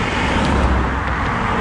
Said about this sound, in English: Sorry about the traffic noise, you might not be able to hear me.